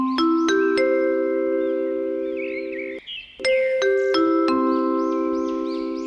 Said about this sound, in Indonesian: Tak lama kemudian, bel pulang berbunyi.